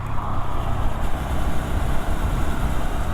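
A Honda MSX125 motorcycle being ridden home, its engine a steady low rumble mixed with road and wind noise, continuous and fairly loud without pauses.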